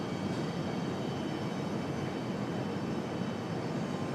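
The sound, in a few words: aircraft departing on the parallel runways at RDU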